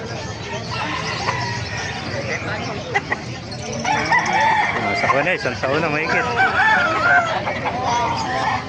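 Chickens and roosters at a busy Bocaue flea market cluck and crow loudly and steadily, with a rooster's crow rising midway, over a dense crowd hubbub as someone talks throughout.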